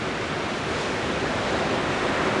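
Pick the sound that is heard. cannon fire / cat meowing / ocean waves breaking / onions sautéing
ocean waves breaking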